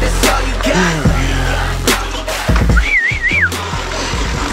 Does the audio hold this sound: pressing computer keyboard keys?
no